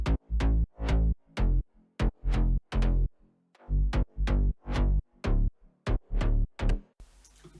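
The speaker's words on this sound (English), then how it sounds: "So you get that kind of reverse effect going on." Short synth bass notes that swell up and cut off abruptly, a reversed-attack effect, repeating in a choppy rhythm with brief gaps between them.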